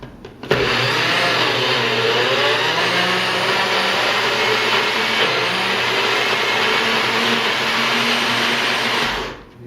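A NutriBullet blender churns a thick energy bar mixture, starting abruptly into a loud, steady motor whine with a straining, labouring tone that holds for nearly ten seconds before cutting off, close and with no talking.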